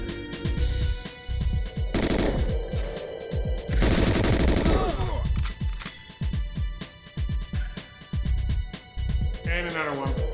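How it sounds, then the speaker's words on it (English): Gunfire in the GoldenEye game on XBLA: loud rapid automatic bursts in two long volleys with scattered single shots between, over game music and someone talking. "again, somebody is shooting"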